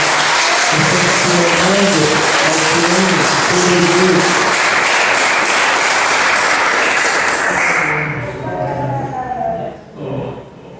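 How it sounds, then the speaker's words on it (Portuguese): A church congregation claps loudly during an anniversary service after a baptism certificate is handed over, dense applause over background music for about eight seconds before fading out, with a voice speaking afterward. "A salva de palmas, meus irmãos."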